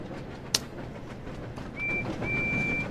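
A train runs in the Thomas train simulator game, a steady rolling rumble with a sharp click early on and a thin sustained whistle-like tone in the second half.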